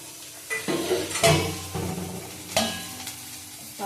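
Fish frying in a covered pan, a steady close sizzle with clattering bursts of stirring and pan contact.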